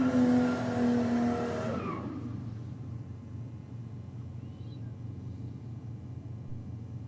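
A UFO 4-litre race car lines up against a Ford Falcon at a drag racing theme night; its engine note drops away after a loud opening burst, leaving a steady low rumble.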